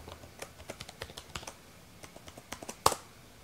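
Password being typed on a computer keyboard: a quick, uneven run of soft key clicks at close range, ending in one louder, sharper keystroke, like a press of Enter, with no voices.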